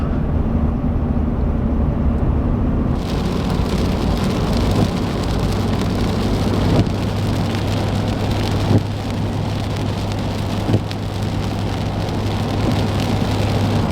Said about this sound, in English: This has been a dreadful drive. Pouring rain.